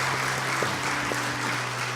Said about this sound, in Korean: 자 위에서 박수 한번 치겠습니다.